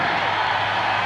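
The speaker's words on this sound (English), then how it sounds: "Let's give him a nice round of applause." A large crowd at a 1995 tractor pull in Louisville, Kentucky, giving a contestant a round of applause: a dense, loud wash of clapping and cheering with no gaps.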